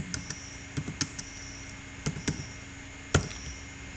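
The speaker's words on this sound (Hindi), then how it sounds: "यहाँ पे रोल नंबर आपको टाइप करना है।" Keystrokes on a computer keyboard as a roll number is entered into a university admission form: scattered clusters of light taps with pauses between, close and fairly quiet, with no talking.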